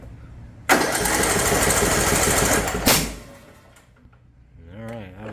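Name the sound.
engine running at half throttle, backfiring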